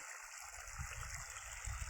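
Water running steadily along a farm irrigation channel, a continuous low rushing and gurgling flow, faint and unbroken, with no voices.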